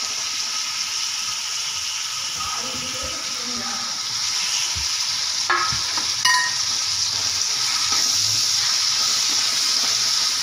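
Tomatoes and ginger-garlic paste frying in a pan for chicken thokku, giving a steady hiss of sizzling with a few scraping stir strokes and clinks about halfway through.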